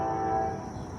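A Norfolk Southern eastbound freight train passing in Chesterton, Indiana, a steady close rumble and rolling clatter with a faint tonal hum, heard without talk.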